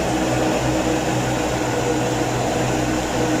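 An old DC air cooler's fan motor, fed 12 volts through a DC converter, runs on its own with a steady, even whir and hum from start to finish.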